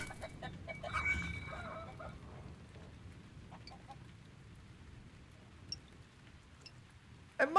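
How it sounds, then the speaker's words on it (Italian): Chickens cluck faintly and sporadically over a steady rain-like ambient bed in the video game Tom The Postgirl, with a brief louder squawk at the very end; no one speaks. "Ma perché devono trattare così male le galline in questo gioco?"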